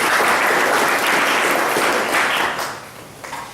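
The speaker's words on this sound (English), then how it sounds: "give Roger and Pat a big hand of applause" A crowd of people claps loudly and continuously, with the applause staying strong for about three seconds before starting to fade.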